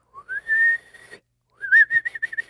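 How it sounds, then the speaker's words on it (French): A thin whistle rises and holds a steady tone, pauses, then returns as a series of short choppy whistled bursts; close and fairly soft. "je suis capable de siffler, mais juste en aspirant, pas en soufflant"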